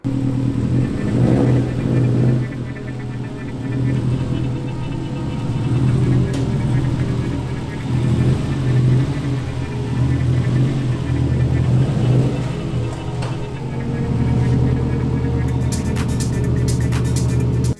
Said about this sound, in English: let's get the car in the shed and let's get to it